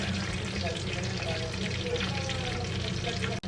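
Pork belly for lechon kawali fries in hot oil with a dense, continuous bubbling sizzle, close and steady throughout, with no talking.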